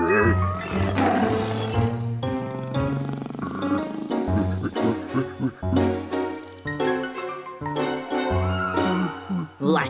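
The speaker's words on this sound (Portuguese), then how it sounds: "Em um grande tigre!" A cartoon tiger gives repeated loud, throaty roars in rising and falling bursts across ten seconds, with brief gaps between them.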